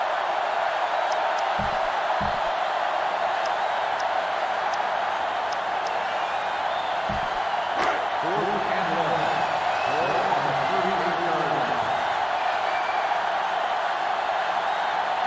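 A stadium crowd in the NCAA 06 college football video game, LSU against Georgia, keeps up a loud, steady roar throughout, with a commentator's voice heard over it midway.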